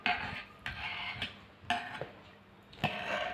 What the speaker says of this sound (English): So all ingredients are already kept inside this ball. Now just mix it well for a couple of minutes